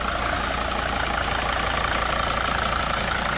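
A T1N Sprinter van's engine idles close by after reassembly, with a steady, even diesel-like chug and a faint rhythmic knock throughout, with no voices.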